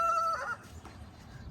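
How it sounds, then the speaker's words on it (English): A rooster crows briefly and faintly at a distance, the call cut short and fading into quiet background noise. "for those that heard the rooster"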